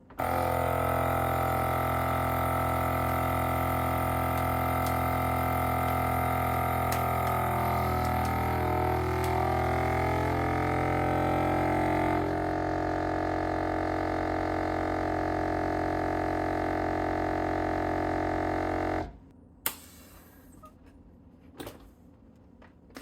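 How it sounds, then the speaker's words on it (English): A VEVOR dual-pump vacuum sealer drones steadily with a loud motorized pumping hum for about nineteen seconds, then stops, leaving a few faint clicks and taps. "Put it back on normal and normal, vacuum seal"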